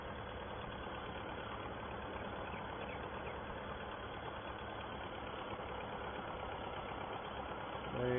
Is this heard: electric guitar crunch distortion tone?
no